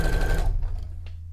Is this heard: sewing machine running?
yes